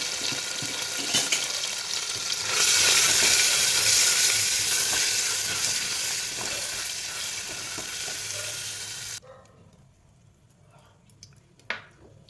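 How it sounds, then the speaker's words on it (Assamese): Paneer fries in hot ghee in a pan with a pinch of salt, giving a loud, steady sizzle that ends abruptly, followed by quiet clatter and one sharp clink. "মই ইয়াতে পনীৰ অকণমান ফ্ৰাই কৰি উঠাই ৰাখিম।"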